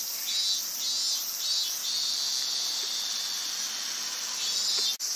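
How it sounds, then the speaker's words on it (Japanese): A loud, steady chorus of cicadas, including minmin and large brown cicadas, drones without pause in midsummer, its high buzzing swelling in slow pulses, with no voices present. "そういったセミの鳴き声がすごく盛んに"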